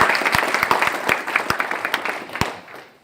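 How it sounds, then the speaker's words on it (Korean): Audience applause at a Korean agricultural producers' union launch ceremony, a steady round of many hands clapping with a few sharp louder claps standing out, fading out near the end. "좋은 말씀 해주신 네 분에게 힘찬 박수 부탁드리겠습니다"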